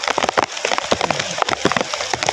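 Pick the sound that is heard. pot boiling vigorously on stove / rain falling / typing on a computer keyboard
rain falling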